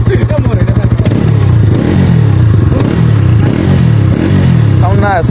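A Bajaj Dominar 400 motorcycle engine revs loudly and close, its steady throb rising and falling in repeated surges, with people talking over it.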